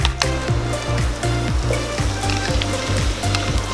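Beaten eggs frying in hot oil with garlic and onion in a pan, giving a steady close sizzle with rhythmic stirring or scraping strokes, no talk.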